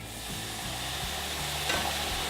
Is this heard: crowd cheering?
no